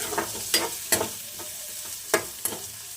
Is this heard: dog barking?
no